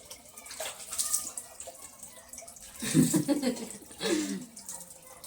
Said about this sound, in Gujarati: આ સાઈડ મમ્મી વાસણ ધોવે અને પાણી પણ આવી ગયું